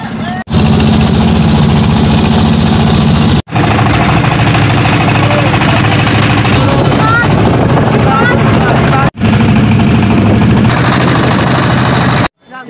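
A river tour boat's engine drones loudly and continuously, cut by a couple of brief pauses, with splashing water and voices underneath, near Haripur bridge.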